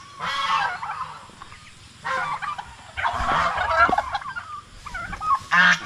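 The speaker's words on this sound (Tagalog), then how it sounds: "At ngayon, pagkawala naman natin ating mga pabo dito." Several bursts of turkey gobbling on a backyard Filipino farm, loud close calls broken by short gaps, with other fowl chatter faintly in the background.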